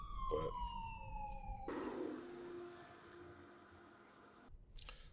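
An ambulance siren in traffic wails and then switches to a rapid yelp. It sounds moderately near against road noise and cuts off near the end.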